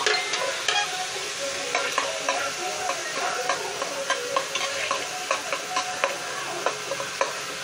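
Onion sautéing in a pan for a Filipino papaitan dish, with a steady sizzle under frequent rhythmic spatula taps and scrapes, close and lively, and no one talking.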